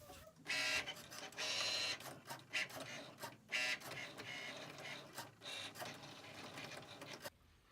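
A Cricut Maker cutting machine working through a card project: a whirring, buzzing motor in bursts of varying length with brief pauses between carriage movements, close but fairly quiet, ending abruptly.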